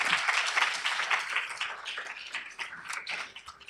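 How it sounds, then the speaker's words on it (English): An audience at a film screening and discussion breaks into a round of applause, a dense steady patter of clapping hands that carries on through the whole stretch with no voices over it. "So please, can we give them a round of applause?"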